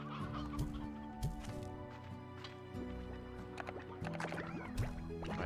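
A flock of chickens in the video game Slime Rancher 2 clucks and squawks continuously at close range, with overlapping honking calls and faint background music throughout.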